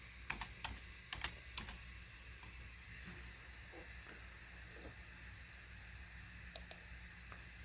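Keys on a computer keyboard clack in short, irregular bursts, with sharp clicks scattered over a quiet, faint background.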